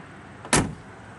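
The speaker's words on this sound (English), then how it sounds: "I mean, the doors, they close perfectly on the car." A 1957 Chevrolet Bel Air two-door shuts its door with a single solid thud, sharp and close, over faint background hiss.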